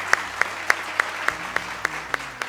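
Rhythmic clapping in time at a 2022 award show, sharp single claps evenly spaced about four per second, standing out loudly over a low background murmur.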